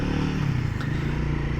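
A Royal Enfield Guerrilla 450 with a 452 cc engine runs nearby, a steady low throbbing exhaust note held evenly throughout, with a faint metallic tick partway through and no talking.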